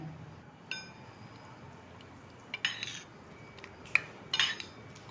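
Cooked lentils (dal) are mashed and added to a cooking pot while preparing kadamba sadam, heard as a few sparse, quiet metal utensil clinks and scrapes against the pot, with no talking.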